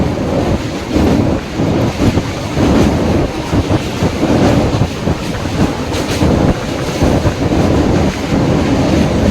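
A 15550 Jaynagar Intercity Express train rumbles across the Sonpur bridge, loud and close, with rhythmic clattering of wheels and gusts of wind buffeting the microphone.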